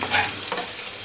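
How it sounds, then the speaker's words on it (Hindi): Chopped green and red chillies with onion fry in hot oil, a brief, dense close sizzle with a quick stir and clatter partway through, no voices. "और कटी हुई मिर्च मैंने इसमें डाल दी है।"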